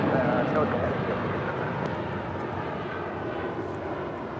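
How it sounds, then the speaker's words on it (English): A United Airlines Boeing 787-9 Dreamliner departs LAX, its engine roar a broad, steady rumble at moderate distance that fades slightly over a few seconds. "This is United Airlines 531 Heavy departing to Chicago on a 787-9 Dreamliner."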